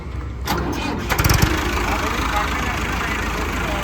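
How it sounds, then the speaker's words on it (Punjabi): A 2010 John Deere 5050 tractor's engine cranks and catches, then settles into a steady, loud diesel rumble close by. "ਟਰੈਕਟਰ ਆ ਸਟਾਰਟ ਕਰੀ ਬਾਈ"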